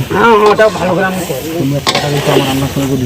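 Meat frying in a pan at an outdoor picnic, a steady sizzle and stirring hiss running beneath close, loud conversation in Bengali.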